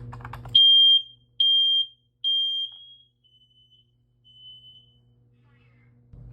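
A new home smoke detector under test sounds three loud, piercing electronic beeps in a steady pattern, followed by fainter chirps as it fades, with a low room hum at the start and end.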